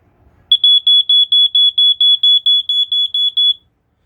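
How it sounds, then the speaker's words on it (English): A First Alert SA90LT smoke alarm with light test shrills in a rapid run of about fourteen loud, piercing, evenly spaced beeps, close to the listener, with nothing else heard. "first alert model number SA90LT. This is the one with the light test."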